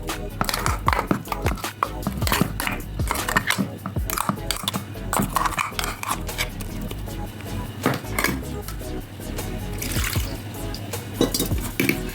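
A kitchen mixer grinding a tamarind water mixture, a busy churning clatter of liquid and blades that runs continuously and fairly loud, with no one speaking.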